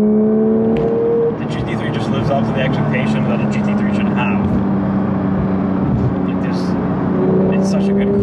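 A stock-exhaust Porsche 992 911 GT3 being driven, its engine a steady sustained drone with shifting tonal lines, heard from inside the car under continuous talk.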